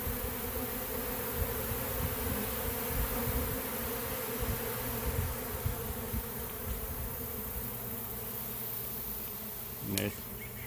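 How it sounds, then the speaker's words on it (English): Honeybees pour out in a swarm, their thick, continuous buzzing hanging loud and even in the air, with a short sharp knock near the end. "The bees just pour out as fast as they can."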